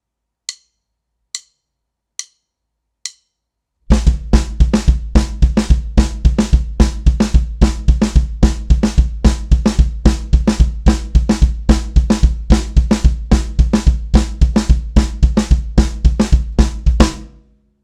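A drum kit plays a displaced triplet exercise in a drum lesson: four sparse isolated hits first, then a dense, steady groove of kick, snare and cymbals, loud and close with no talking.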